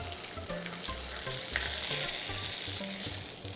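Mochi crepe made with spring roll wrappers sizzles steadily in a lightly covered frying pan, a continuous close frying hiss with a few soft knocks underneath.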